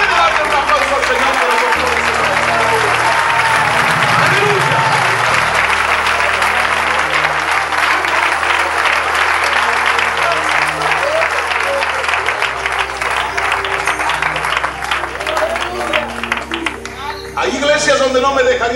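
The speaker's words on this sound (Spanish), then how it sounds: "Puede darle un aplauso al Señor" A church congregation claps loudly and continuously for a long stretch in a sustained wave of applause, thinning slightly near the end, while a voice carries on over it.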